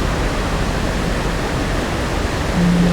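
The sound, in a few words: water flowing from taps through pipes in the video game ARK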